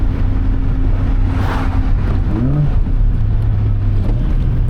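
Engine of a Honda Fit with its brake booster removed revving briefly during a heel-toe downshift while driving, a short rising blip of engine pitch over steady road and cabin rumble.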